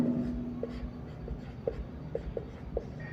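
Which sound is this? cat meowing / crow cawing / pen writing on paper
pen writing on paper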